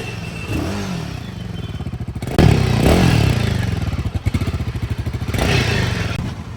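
A Royal Enfield Himalayan 450 motorcycle idles and revs close by, its engine thumping in a steady pulse, with a few clunks and clatters as the throttle rises and falls.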